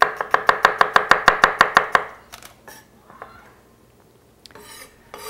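A knife chops shallots on a board in a rapid, steady run of about a dozen crisp strokes. Quieter scraping and handling noises follow.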